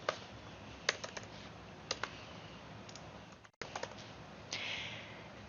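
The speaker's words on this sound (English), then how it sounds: "And I'm going to type those in." Quiet, close computer keyboard typing as answer choices are entered: scattered key clicks in short irregular bursts, with a brief pause partway through and no talking.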